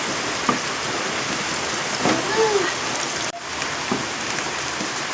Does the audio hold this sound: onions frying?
yes